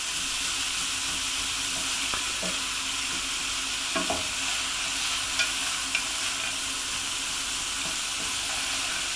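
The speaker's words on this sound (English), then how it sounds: "Just give it a good stir in." Vegetarian sausage and bean casserole being stirred in a hot pot, a steady soft sizzle with a few scraping clinks of the spoon against the pot, close by and without talk.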